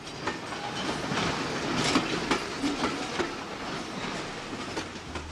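A Class 414 2HAP British Rail commuter train runs along the track with a steady rumble and rhythmic clickety-clack of wheels over rail joints.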